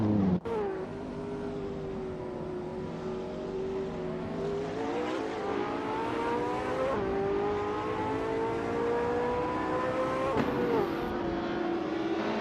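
Race cars in a racing video game produce a steady, loud engine drone with continuous high revving that rises and falls slightly, sustained throughout with no pauses.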